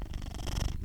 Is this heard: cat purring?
yes